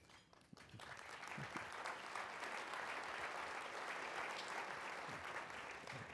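An audience at a county government speech applauds steadily, a dense wash of clapping that holds at a constant level for several seconds.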